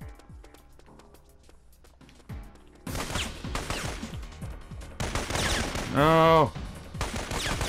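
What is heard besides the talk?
gunfire in the video game Syphon Filter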